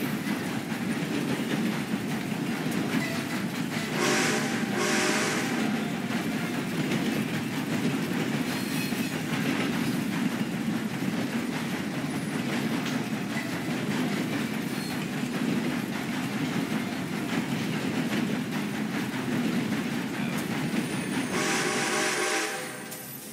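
A train rolls along the rails in Red Dead Redemption 2, a steady low rumble with rhythmic clickety-clack and brief squeals, continuous and close throughout, no voices.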